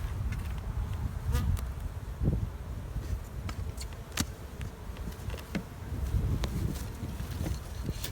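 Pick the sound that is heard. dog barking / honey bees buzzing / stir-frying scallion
honey bees buzzing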